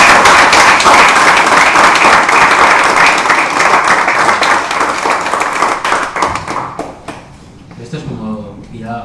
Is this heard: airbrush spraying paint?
no